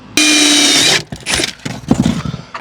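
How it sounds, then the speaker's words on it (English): Power drill boring a hole in a camper for a side awning kit install: one loud, steady high whine for about a second, then rougher bursts of grinding and rattling as the bit works through. "From there we can drill our hole."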